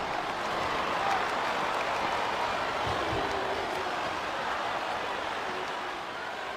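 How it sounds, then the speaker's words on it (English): A large wrestling arena crowd in WWE SmackDown vs. Raw 2007 roars and applauds in a steady, dense wash of noise that barely changes over several seconds. "I think this crowd's giving these superstars a piece of their minds, King."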